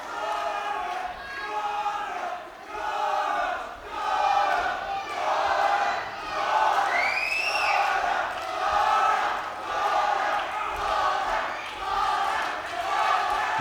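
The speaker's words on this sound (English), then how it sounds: "the crowd really start to try and give their man a boost here at the Mecca in Swindon" Boxing crowd at the Mecca in Swindon cheering and shouting in waves, a loud swelling roar of many voices with rhythmic surges and a few high whoops.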